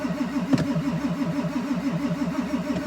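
A diesel Ford F-250 engine catches with a single sharp crank and then runs roughly, its idle pulsing in an uneven wobbling rhythm, close and loud with no talk over it.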